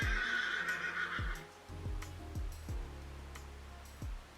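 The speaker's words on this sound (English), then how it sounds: "sorry, that was a horse." A horse whinnies loudly and nearby, a high shrill call that fades after a second or so, followed by a few lower snorting sounds.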